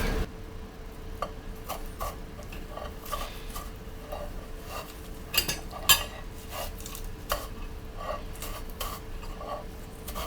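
A knife cuts through a watermelon on a board, giving soft, scattered crunches and taps. The cuts sound close but fairly quiet over a steady low hum, with a couple of sharper clicks midway and no talking.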